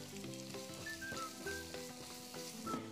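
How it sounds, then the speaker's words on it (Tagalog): Onion and garlic sautéing in oil in a pan for palabok, a continuous close sizzle and crackle with light stirring, steady and without voices. "Sa same na kawali, magdagdag tayo ng mantika. Panggisa. Igisa ang sibuyas."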